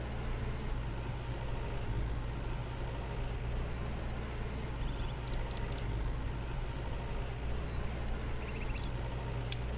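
A tractor plowing a field in the farming game Farmer's Dynasty, its engine droning steadily and fairly quietly at a constant pitch, with a few faint high chirps on top.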